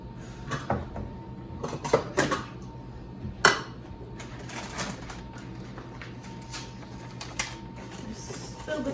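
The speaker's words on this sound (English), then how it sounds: "Add white and brown sugars to the mixture and whisk well." Brownie mixture being whisked with white and brown sugar in a bowl, irregular clinks, taps and scraping of a whisk against the bowl, with louder knocks early on and quieter steady rattling after.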